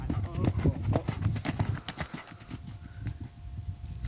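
Rapid, rhythmic hoofbeats of a young horse cantering, close and steady, with a few scattered voices underneath.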